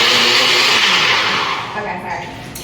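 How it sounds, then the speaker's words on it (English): Loud whirring blender mixing water and creatine, a high steady motor roar that slowly softens and drops in pitch toward the end, running alone without talk. "she mixed water and creatine in the blender"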